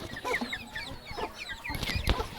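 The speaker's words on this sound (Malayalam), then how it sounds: "ഇതിപ്പോൾ നാടൻ കാപ്പിരി കോഴിയുടെ കുഞ്ഞുങ്ങളാണ്" Native Kappiri chicken chicks, about two months old, give a run of soft, high clucks and peeps close by, overlapping in quick bursts from several birds.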